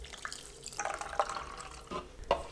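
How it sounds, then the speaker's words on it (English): Hot water pours over bulgur wheat in a bowl, giving soft splashing and trickling sounds with a few brief louder gurgles, quiet and close. "then add 1 cup hot water over the bulgur wheat"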